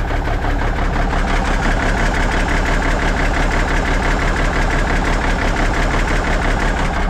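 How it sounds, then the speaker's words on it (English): A small engine at fast idle, steady and loud with a dense, rapid knocking pulse that holds unchanged without pauses. "Maybe I'll fast idle it,"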